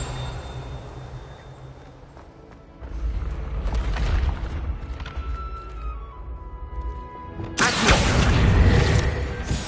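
A Confringo blasting spell explodes in Hogwarts Legacy: low rumbling magic and game ambience build, then a loud, sharp, broadband blast erupts near the end and rolls on as a heavy roar.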